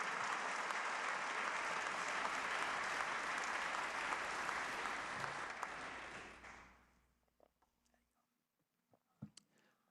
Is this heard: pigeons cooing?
no